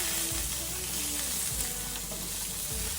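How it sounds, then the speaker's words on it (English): Salmon fillet sears flesh-side down in a hot pan, skin up, for a garlic butter herb recipe, giving a steady, close sizzle and crackle that fills the whole stretch without talk. "I'm going in with my salmon face down and skin up. Reason being, I want to get a nice sear on the flesh of the salmon."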